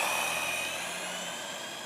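A GP Toys S912 1/12 scale RC truck speeds off with a thin, steady electric motor whine over a hiss, lasting under two seconds.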